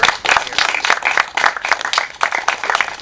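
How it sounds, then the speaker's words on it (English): An audience applauding at a meeting, dense, fairly close clapping from many hands that runs on steadily without letting up. "give them a big applause for their"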